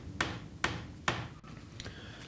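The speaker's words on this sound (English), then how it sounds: "hammer in the pre-glued dowels" A hammer drives pre-glued wooden dowels into the legs of a traditional carpenter's workbench, three sharp, evenly spaced blows followed by a softer fourth knock, close up in a quiet workshop.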